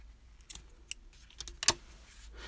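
Scissors snip the yarn ends on a crocheted hobgoblin: a few sharp, close clicks spread across a quiet background, the loudest snip near the end.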